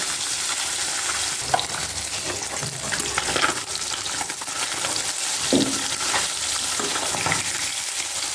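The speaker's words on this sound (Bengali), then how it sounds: "আমি 3টে মাছই ভাজছি" Three bata fish fry in hot oil, giving a steady, crackling sizzle close by, with occasional louder spits and pops and faint clinks of utensils.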